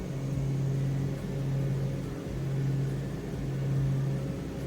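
Aircraft engine spooling up as the torque lever is pushed forward, a steady close drone with a strong sustained hum that slowly swells and eases, loud and continuous with no speech.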